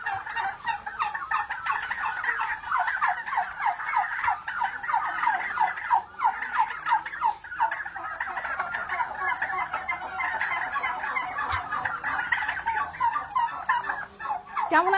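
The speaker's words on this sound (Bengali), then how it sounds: "আচ্ছা, টার্কি খাওয়াচ্ছিলেন?" Turkeys on a farm gobble continuously in a dense, rippling chorus at moderate distance, with chicken clucks mixed in and brief talk in the background.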